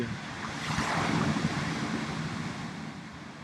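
Ocean waves wash and surge steadily in the background, a continuous broad rush of surf with some wind noise, no voices present.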